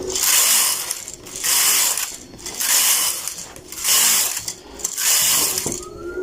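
A domestic knitting machine carriage swishes back and forth across rows of a dress, giving five loud rhythmic passes, each a rushing mechanical sweep with brief pauses between.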